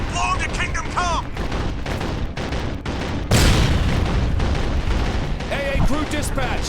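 A set demolition charge detonates in Sniper: Ghost Warrior 2, a sudden loud broadband blast partway through, surrounded by dense game gunfire and ambient battle noise, with voices talking before and after.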